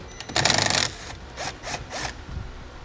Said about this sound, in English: Now I'm going to be using a 10mm socket to remove the nut on our battery.